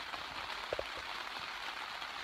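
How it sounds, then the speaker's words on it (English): Heavy rain pouring down at a Gros Ventre campsite in Wyoming, a steady dense hiss of falling water with a few close drips, continuous and even throughout. "it's pouring down rain."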